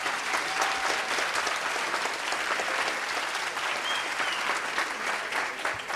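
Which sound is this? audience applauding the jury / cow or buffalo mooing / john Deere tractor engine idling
audience applauding the jury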